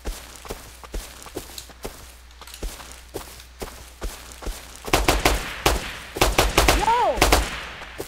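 Gunfire in the survival game Rust, evenly spaced single shots at first, then heavier clustered shots and footsteps, with someone shouting briefly over the fire.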